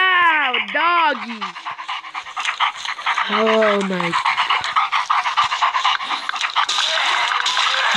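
A dog pants loudly and rapidly close by, with whiny vocal sounds early on and a person talking briefly over it.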